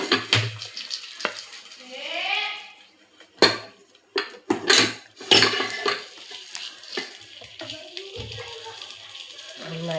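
Spices tempering for a simple Kerala sambar made with ground shallots crackle and sizzle in a pan alongside clinks of a metal spoon against cookware, with someone talking over the kitchen sounds.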